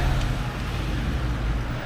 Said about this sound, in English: there's a lot of loud cars around.